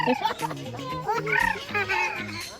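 A turkey gobbles while being fed in Cameron Highlands, giving loud, close, rapid warbling gobbles in quick bursts that fill the short moment almost without pause.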